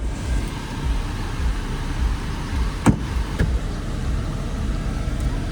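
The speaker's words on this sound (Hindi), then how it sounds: "मैं कार चालू करके थोड़ी गाड़ी ठंडी कर लेता हूँ." A car engine idles steadily in a low, even rumble after being started to cool the car down. A couple of faint clicks, like a door or switch, break in briefly near the middle. No one speaks.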